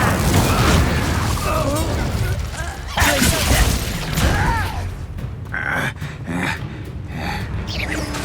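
The Incendio fire spell in Hogwarts Legacy on PS5 erupts in loud whooshing bursts and deep booms amid combat effects, with voices shouting over the fiery blasts.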